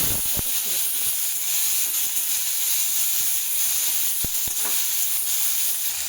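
Panch phoron, tomato and green chilli frying in hot mustard oil, a steady loud sizzle with a few sharp clinks of a spoon stirring the pan.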